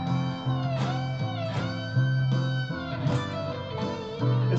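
On an electric guitar, a string is bent from E up to G, a minor third, inside a pentatonic lick. The bent notes are repeated and sustained over a loud, full band backing, with no talking.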